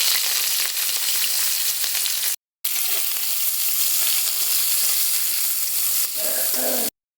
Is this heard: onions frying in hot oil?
yes